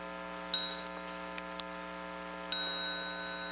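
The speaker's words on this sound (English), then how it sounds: "when you hear the small bell, please stand up and salute the Sangha" A small meditation bell rings twice in a quiet hall at a Buddhist Dharma talk, each strike bright and clear, then fading into a long shimmering decay.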